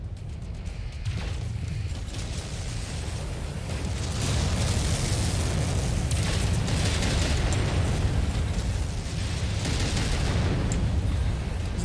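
A Dervish mech being destroyed in MechWarrior 5 unleashes a heavy, sustained explosive rumble that swells partway through and keeps roaring with crackling debris for several seconds, loud and close, with no speech over it.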